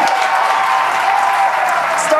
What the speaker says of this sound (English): As you heard there, by the call out and from the crowd behind us,